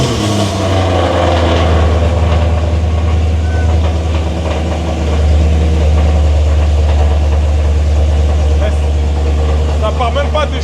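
A sports car engine in Monaco idles with a deep, steady rumble throughout, while people talk over it close by.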